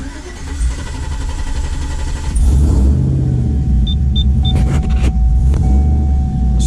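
Cammed Chevrolet Silverado 5.3 LS V8 running rough at idle without a tune, a loud, steady low rumble that surges and thickens partway through, alone with no talk.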